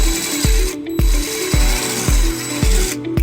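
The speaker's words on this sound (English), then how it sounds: "And then we'll drill the second hole" Power drill boring a hole for a wiring harness bracket on a 2005 Toyota Highlander, a whining motor that cycles up in repeated bursts with sharp bites at each start, close and alone.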